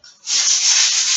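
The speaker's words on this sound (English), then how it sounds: "Gently sanding." Painted wood on a chest of drawers is sanded gently by hand, a steady close rasping rub after a brief light stroke, loud and continuous with no talk.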